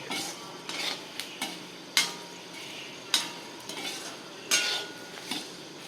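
Fenugreek seeds dry-roasting in a pan for spice powder, a soft continuous rustle broken by several sharp scraping and tapping stirs of a spoon against the metal pan.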